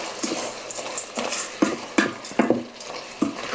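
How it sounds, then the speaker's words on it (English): Lentils and curry sauce stirred in an Instant Pot insert, a spoon scraping and clanking against the metal pot in repeated short strokes with wet, thick squelches, close and fairly loud, with no talking. "And a quick stir."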